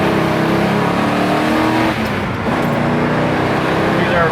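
A 1973 Ford Mustang Mach 1 V8 accelerates hard and loud, with a brief dip near the middle as it shifts gears around 4,500 RPM before pulling strongly again.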